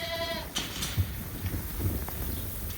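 A single sheep bleat opens, followed by soft rustling and scattered thuds of sheep moving nearby during feeding on a farm; no speech.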